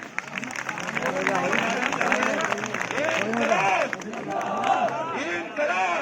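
Crowd clapping at an MPPSC protest rally in Indore, scattered and mixed with loud overlapping voices and chanting that dominate throughout.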